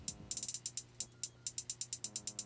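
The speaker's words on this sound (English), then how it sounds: "Just to get a little bit of trap hats kind of in there" Trap hi-hats heard alone, a crisp run of bright ticking hits in a steady rapid pattern with quick rolls, fairly quiet with only a faint low tone underneath.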